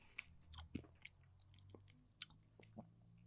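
Crunchy chips are chewed close to the microphone in scattered crisp crunches and bites over a quiet background, with no speech.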